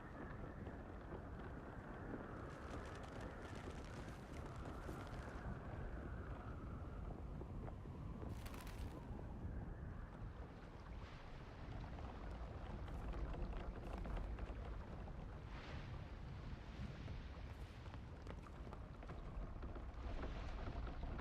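A sailing ship at sea in Guild Wars 2 plays as a quiet, continuous wash of wind and water, with a faint swell in the middle and soft crackles here and there.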